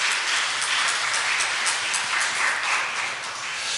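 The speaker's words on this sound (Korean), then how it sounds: "박수 부탁드립니다" A church congregation applauding after a musical performance at a Sunday worship service, a dense, even patter of many hands clapping that carries on steadily and fades slightly near the end.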